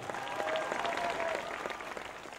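Audience applause at a fashion show in Porto San Giorgio swells briefly, then fades over a couple of seconds, with a faint tone and murmur in the background.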